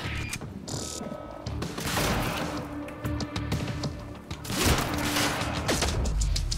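Gunfire in the video game Quantum Break, with rattling mechanical bursts and clanking weapon sounds over a dense, loud game soundtrack, continuing throughout without talk.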